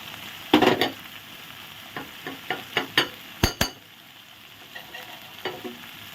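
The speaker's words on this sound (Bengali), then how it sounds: "দিয়ে ভালো করে নেড়ে চেড়ে একটু মশলা কষিয়ে নেব" Spices and katla fish for doi katla curry being stirred in a pan, with a light sizzle under a series of distinct scraping and clinking strokes, several loud knocks near the start, then quieter stirring.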